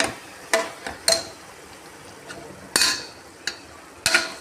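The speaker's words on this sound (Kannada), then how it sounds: "ಇವಾಗ ಲಾಸ್ಟಲ್ಲಿ ಉಪ್ಪು ಹಾಕಬೇಕು, ಹಾಕಿ ಎಲ್ಲನೂ ಮಿಕ್ಸ್ ಮಾಡಬೇಕು" A spoon stirs salt into a tomato rice mixture in a cooking pot, with a handful of sharp, separated clinks and scrapes against the pot amid quiet background hiss.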